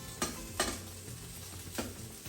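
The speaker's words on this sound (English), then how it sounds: "Let that sizzle away for about 5-10 minutes." A Spanish omelette with chicken sizzling in a pan, a steady soft frying hiss broken by a few scraping stirs of a utensil, close and moderately quiet, no talking.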